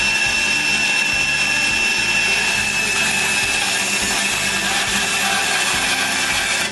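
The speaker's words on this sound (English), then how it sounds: "I cut around the line on the bandsaw." A bandsaw cuts around a marked line in half-inch maple board, its steady whining drone running continuously with low rhythmic thumps beneath.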